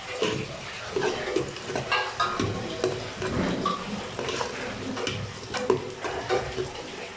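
Beef biryani with onions being stirred in a pan, a spoon scraping and knocking against the metal in irregular strokes over a low sizzle, close and fairly loud, with no talk.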